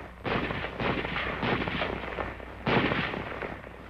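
M1 Garand .30 caliber rifle fired in a 1943 training film, several loud sharp shots in quick succession with ringing decay between them, one heavy report after a short pause.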